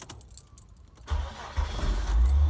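A 2.0-litre petrol car with a weak battery turns over briefly and then catches, and the engine rises into a loud, low rumbling idle close by.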